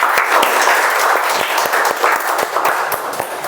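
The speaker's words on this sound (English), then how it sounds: "Okay, Ayushi, can we have a round of applause for all the guests" An audience at a community meeting claps for the guests in a steady, dense round of applause lasting a few seconds.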